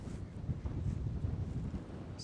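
Wind buffets the microphone on a golf course in Chassieu, a low, gusty rumble that is fairly faint and continuous over a couple of seconds.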